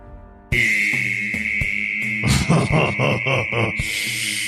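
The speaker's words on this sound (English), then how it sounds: "My cicada call." Loud, shrill cicada call buzzing continuously from a handheld call device in a comedy sketch, over a rhythmic musical backing with sharp percussive hits.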